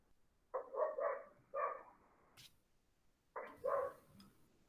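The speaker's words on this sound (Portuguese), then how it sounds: "Tem um cachorrinho colaborando bastante com a aula" A small dog barks in quick clusters of three or four yips, pauses, then barks again, fairly close in an otherwise quiet room during an online lecture.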